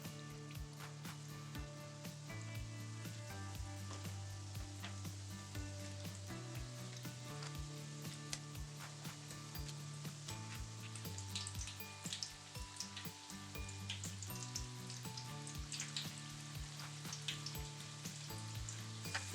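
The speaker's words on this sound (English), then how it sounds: "I'm going to add one chip into it, and once it begins to fry, then I'm going to add the rest of potato chips" Potato chips fry in oil in a wok over medium heat, giving a continuous crackling sizzle with music playing in the background.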